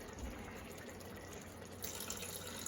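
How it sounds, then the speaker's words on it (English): Water is poured into a pot of simmering Campania-style Sunday ragu tomato sauce, a faint steady trickle and splash that grows slightly louder near the end, with no talk. "I'm going to add a little water to this."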